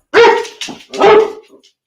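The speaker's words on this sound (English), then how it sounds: "Hold on just a second because you finna hear Rolando barking." Rolando the dog barks twice up close, loud sharp barks with a short quieter yip between them, then silence.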